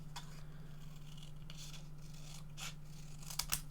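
Scissors cut out a deck of cards with soft, faint snipping and rustling strokes at irregular intervals, close by and quiet, ending in a couple of sharper cuts.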